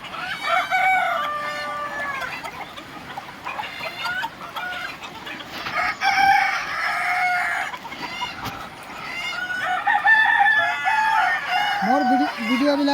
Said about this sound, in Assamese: এইটো চাওক মুৰ্গীবিলাক